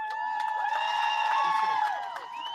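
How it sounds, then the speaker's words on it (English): Crowd at a street protest rally outside a police department cheering and clapping, a mix of voices shouting and whooping over scattered claps, fairly loud and continuous, easing off near the end. "Give him a big round of applause."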